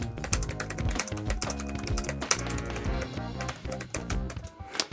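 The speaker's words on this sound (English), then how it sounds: "when you're clacking down on the keys, they do feel a little bit hollow" Fingers type briskly on the Lenovo Yoga Tab Plus keyboard, a dense run of slightly hollow, clacking key presses, close and continuous for several seconds with no talking.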